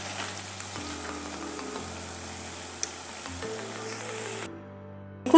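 Dahi wadas deep frying golden brown in oil, an even close bubbling sizzle under a steady background hum that cuts off abruptly near the end, followed by a brief clatter.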